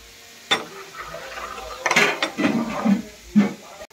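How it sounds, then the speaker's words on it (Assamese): Khichdi is stirred in a pot with a metal utensil, producing scattered scraping and clanking knocks at irregular intervals, close and moderately loud, with a sharp clink near the start. "খিচিৰিটো ঠাণ্ডা হবৰ কাৰণে হিলাই দি আছো মই খিচিৰিটো"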